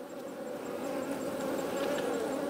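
A dense, continuous buzzing of many honey bees with winter physiology at an open hive during an inspection hums steadily and fairly close, a constant drone without pauses.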